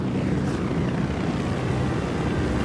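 An Apache attack helicopter flies overhead in the Ghost Recon Wildlands video game, its rotor and engine giving a steady, dense, fairly loud drone throughout with no voices.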